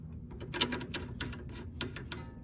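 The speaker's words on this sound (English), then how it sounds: "Tighten that nut down." A ratchet tightens the nut on a TruHart front upper control arm camber kit on a 1994–2001 Acura Integra, giving a series of quick, close metallic clicks in uneven bursts with no talking.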